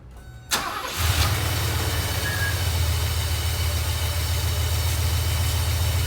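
A Mercedes 380SL, recently fitted with a cleaned idle air control valve and a new idle speed control module, cranks briefly and catches, then settles into a steady, even idle heard up close.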